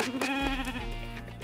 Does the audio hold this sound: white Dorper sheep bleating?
yes